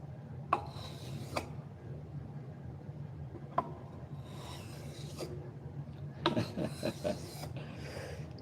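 A knife blade is sanded at 8,000 grit with short, separated rubbing strokes, a few seconds apart and quiet, with a faint steady hum beneath.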